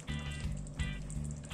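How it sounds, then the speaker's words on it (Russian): Tomato soup with meatballs and noodles bubbles in a pot, a soft steady gurgling and popping, faint and close, with a faint repeating hum underneath. "пусть пока еще булькает супчик"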